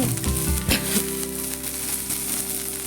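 Cumin seeds and curry leaves crackle and sizzle loudly in hot oil for a dry potato dish, with a few sharp pops early on over a steady frying hiss.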